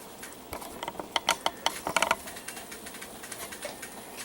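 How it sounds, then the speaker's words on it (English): A Sega Dreamcast console running with a noisy mechanism, giving off a quick, irregular burst of close mechanical clicking and whirring that peaks midway, then settles into a quieter rattle, with no talking. "this is a lot more noisier than the PS1"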